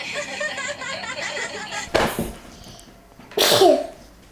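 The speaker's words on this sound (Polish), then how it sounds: "Kichnęła." A toddler of about one and a half sneezes at home, one sharp sneeze followed by a second, with child babble and background talk beforehand.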